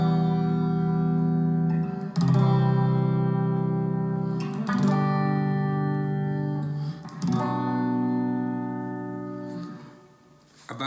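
Strummed guitar chords, played alone in steady ringing strokes with fresh attacks about every two and a half seconds, full and sustained with a touch of echo.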